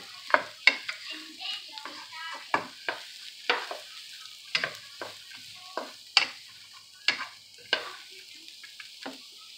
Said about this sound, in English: I am going to start frying that sucker up